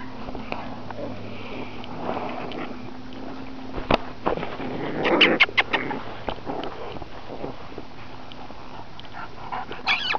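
Puppies sniffing and scuffling nearby as they play, with a burst of short yips and squeaky barks in the middle and a few more near the end.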